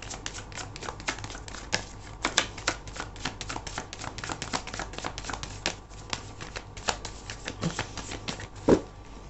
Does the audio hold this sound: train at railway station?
no